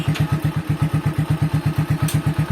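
A Honda TMX125 motorcycle engine idles on its center stand with the clutch released, thumping in a quick, even, close rhythm of low pulses.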